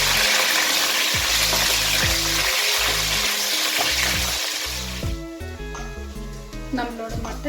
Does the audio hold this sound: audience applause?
no